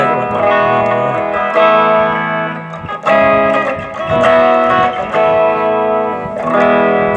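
Electric guitar played through a Thai-made effects pedal, giving a thick, fat distorted tone with chorus-like shimmer; sustained chords and picked notes ring out loud and alone for several seconds.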